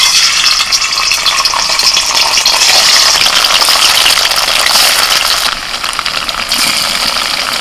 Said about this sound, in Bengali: এবার একে একে পনিরগুলো ভেজে নেব।